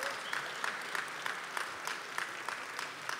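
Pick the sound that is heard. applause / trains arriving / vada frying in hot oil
applause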